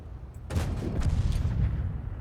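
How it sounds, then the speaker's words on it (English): A tank cannon shot fires in World of Tanks, a sharp heavy blast that follows a short quieter moment and is trailed by a long, rumbling, booming tail. "Make sure I don't get hit by the Scorpion G as well. He's just fired."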